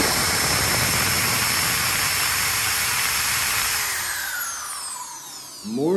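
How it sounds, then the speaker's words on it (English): A Craftsman cordless drill powered from a solar battery bank via an inverter gives a steady high-pitched motor whine, continuous, loud and close, then winds down and slows near the end. "we've got the Craftsman drill. We've got it hooked up to the solar bank."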